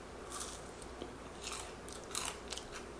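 Crunchy oranda, a Korean rice puff snack, being bitten and chewed close up, giving quiet, crisp crackling crunches in irregular bursts.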